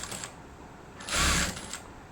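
Sewing machine stitching the neckline of a blouse, with a brief louder run of stitching in the middle between quieter mechanical whirring and clicks, close and alone.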